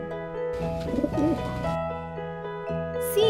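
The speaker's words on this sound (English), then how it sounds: "pigeon" A pigeon coos in soft, throaty, rolling notes at close range, a short burst of cooing set over gentle background music.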